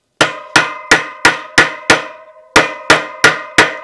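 A bearing is tapped into a DT Swiss bicycle hub shell with ten sharp, ringing metallic strikes, evenly spaced, six then a brief pause then four more, loud and close with no speech.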